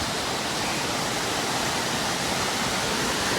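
Steady, loud roar of water pouring down a waterfall, a dense continuous rush heard close up with no voices.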